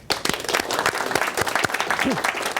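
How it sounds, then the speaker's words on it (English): A burst of applause from a crowd, dense steady clapping with a few voices mixed in, brief and fairly loud. "Round of applause."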